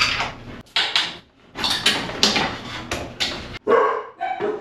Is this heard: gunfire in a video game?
no